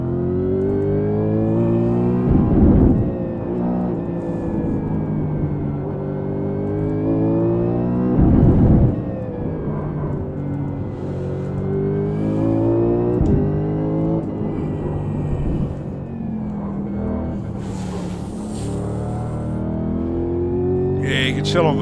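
A VF Commodore supercar laps Oran Park, its engine droning loudly from inside the cockpit with rising and falling revs through gear changes, while a driver's voice comes through over the engine.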